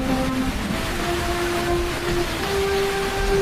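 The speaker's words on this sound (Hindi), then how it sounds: "अरे आज तो कितनी तेज बारिश हो रही है" Heavy rain pours down during a storm in a steady, dense roar that never lets up, with faint tonal hums running underneath.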